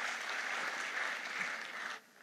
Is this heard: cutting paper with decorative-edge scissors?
no